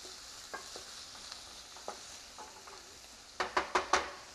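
Garlic and onions cooking in extra virgin olive oil over a lowered flame, with a faint steady sizzle, a few soft utensil taps, then a quick run of four sharper scraping knocks near the end.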